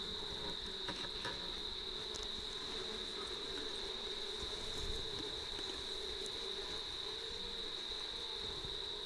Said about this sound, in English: Okay, so the bees are now inside the bass guitar.